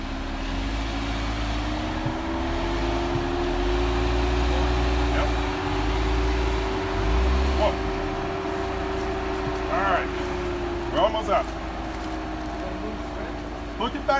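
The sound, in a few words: off-road vehicle pulling forward in drive on trail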